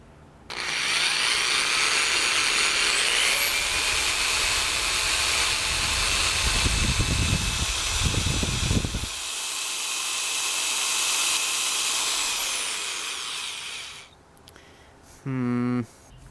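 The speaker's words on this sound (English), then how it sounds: "Perhaps the best way to visualize how it is bent is to hook it to a power drill." A power drill spins the bent rear axle of a Schwinn Meridian e-trike with a steady high whine that rises in pitch and holds for several seconds, with a wobbling rumble underneath, then stops.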